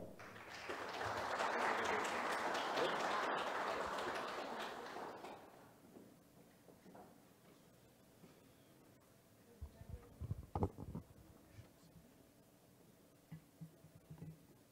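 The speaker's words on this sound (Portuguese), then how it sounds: "É com grande honra e uma salva de palmas que convidamos Evandro Borges para o palco." Faint, distant clapping from an audience welcoming a speaker to the stage at a security talk in Montes Claros, lasting about five seconds before fading into a quiet room with a few scattered thumps.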